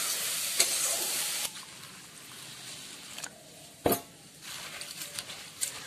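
Turmeric fries in a pan in a Bengali chirer polao preparation, a soft steady sizzle with occasional clinks and stirring scrapes, close but fairly quiet, with no talking.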